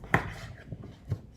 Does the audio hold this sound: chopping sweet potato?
yes